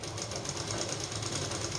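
A sewing machine stitching during a beginner tailoring lesson: a fast, steady mechanical rattle and whir, close and continuous, with no talking.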